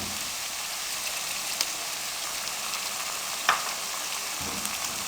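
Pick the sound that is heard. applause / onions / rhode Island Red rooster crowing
onions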